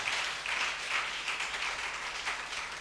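A church congregation applauds and cheers the Lord, a steady, dense wash of clapping and voices sustained throughout, loud and close with no pauses.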